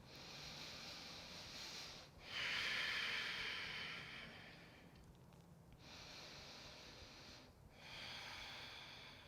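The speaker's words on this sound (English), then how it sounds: "Breathe deep." Deep yogic pranayama breathing during a yoga session for tired legs: slow, long hissing inhales and exhales through the nose, close and alone, alternating with brief pauses.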